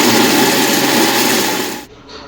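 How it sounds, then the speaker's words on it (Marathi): A kitchen mixer grinder coarsely grinds peanuts, ginger, garlic and white sesame seeds for a village-style brinjal curry paste, a loud steady motor whir running nearly two seconds before cutting off abruptly, leaving a faint quieter hum. "मिक्सरमध्ये जाडं-भरं वाटून घेऊ।"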